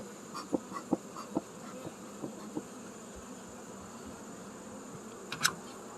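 Honeybees hum at a farm hive inspection, a steady faint drone with scattered louder buzzes of single bees passing close, and one sharp burst near the end.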